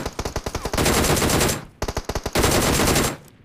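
Automatic weapons in the video game PUBG lay down cover fire: two long, loud bursts, each opening with distinct rapid shots that merge into a continuous roar, separated by a brief pause.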